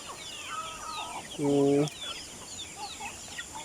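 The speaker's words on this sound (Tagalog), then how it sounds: "Manok ito guys, nagkatag." A single loud chicken cluck-squawk rings out briefly, with faint bird chirps and soft farmyard sounds in the background.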